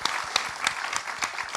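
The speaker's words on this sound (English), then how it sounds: "I think that requires a round of applause." An audience at a talk on climate justice and human rights gives a short burst of applause, a soft, steady patter with a few crisper claps standing out.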